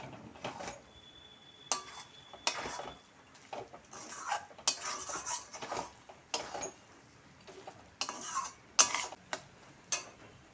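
Carrot, capsicum, tomato and green chilli stirred in a pan for spicy milk noodles, with a run of sharp utensil scrapes and clinks against the metal, irregular and close, over faint kitchen background with no talking.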